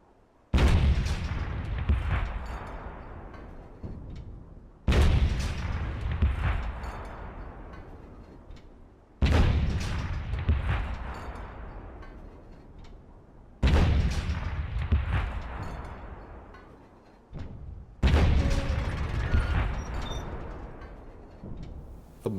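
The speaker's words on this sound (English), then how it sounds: "And on June 26, 1916, British artillery opened up." British World War I artillery bombardment of 1916: five heavy, booming blasts roughly every four to five seconds, each with a long rumbling decay, loud and alone with no talk.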